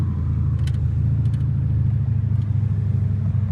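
A straight-piped Dodge Challenger Scat Pack rumbles loudly from inside the car as it accelerates through traffic, a deep steady engine drone with a few faint clicks, no talking.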